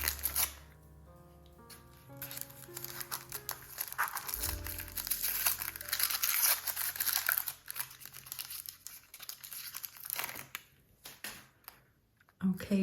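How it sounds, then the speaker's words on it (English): Taped packaging on a cosmetics countdown calendar is peeled and unwrapped up close, with continuous crinkling and tearing of plastic and paper in uneven bursts, plus occasional rustles and taps. "I don't think you need to see me struggling with all of this packaging"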